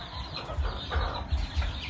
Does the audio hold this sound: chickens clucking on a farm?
yes